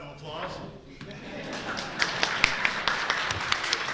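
Scattered hand claps for a retired Army veteran at a Veterans Day luncheon in a senior center, a small room starting to applaud with sharp, uneven claps building over background murmur.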